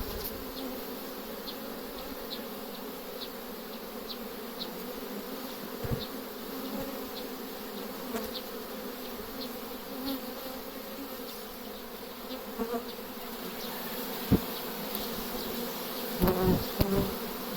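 Steady, dense buzzing of a honeybee swarm fills the whole stretch, continuous and close, with a few faint knocks and rustles near the end.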